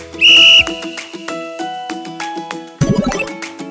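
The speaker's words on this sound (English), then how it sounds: "W is for whistle." A loud, shrill whistle blast rings out briefly at the start, followed by bright, bouncy children's music with chimes and a plucked melody.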